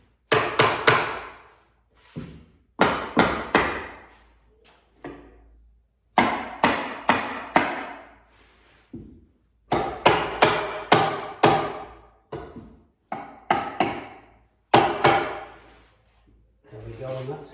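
The wooden end of a hammer taps stretcher bars into the back of an oil painting canvas, sharp close knocks in short bursts of three or four with brief pauses between groups.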